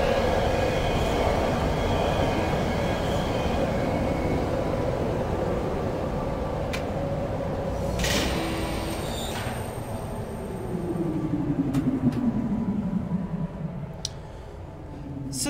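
Rumbling roller coaster ride in the video game Riven, a steady loud rail-like roar with clanks and a rising whine of wheels, continuous throughout with no talking.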